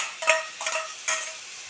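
Tomatoes go into onions already frying in a pan, heard as three short, quiet scraping stirs over a soft background sizzle.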